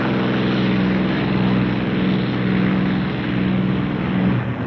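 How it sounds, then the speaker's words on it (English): A steady, droning roar of B-29 bomber and P-51 fighter piston engines in flight, loud and continuous with a sustained low hum throughout, and no voices. "Farther west, our bomber wings grind ahead on the last lap to the Empire."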